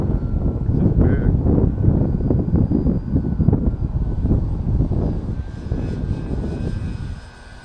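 A radio-controlled foam model airplane flying overhead, its engine a continuous buzzing drone with some wind noise, loud and fairly close throughout before fading slightly at the end.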